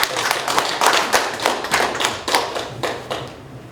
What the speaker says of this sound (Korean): 우리 회장님께 큰 박수로 모시겠습니다.